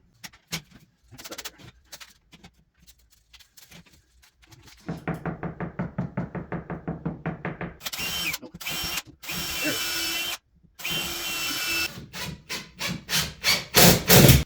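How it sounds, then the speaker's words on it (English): A power drill whirs in short bursts into a wall after some quiet handling noises, the motor pulsing on and off, then grinding harder and louder toward the end. "I want to drill right about here."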